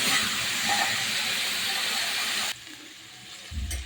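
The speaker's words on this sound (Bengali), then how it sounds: "আমি তরকারি ঢেলে দিচ্ছি।" A loud, steady sizzle and hiss as curry is poured into hot oil tempered with cumin and bay leaf; it cuts off abruptly, leaving quieter sizzling and a faint clunk near the end.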